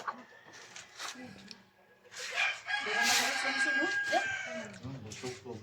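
A native rooster crows at a rural outdoor meal, one drawn-out call rising over steady nearby talk and clatter.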